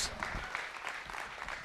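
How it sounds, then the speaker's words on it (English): A church congregation claps for a healer during a worship service, a soft, steady patter of many hands, fairly faint and distant, continuing evenly without speech. "Let's give a round of applause to the healer."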